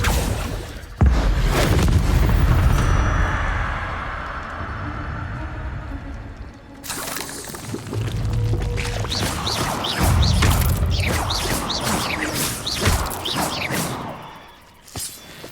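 Spells cast in Hogwarts Legacy, heavy magical booms and thuds followed by crackling, shattering impact effects and whooshes, loud and layered in game audio with no talk.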